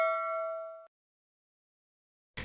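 A single bright notification bell ding rings out clearly and decays within about a second, then silence follows before a brief burst of sound at the very end.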